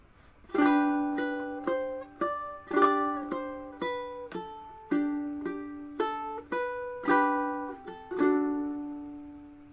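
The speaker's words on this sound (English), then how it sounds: "So playing those first four measures a little more up to speed would sound like this." A ukulele plays Ode to Joy one note at a time at a moderate steady pace, with some notes ringing out as chords.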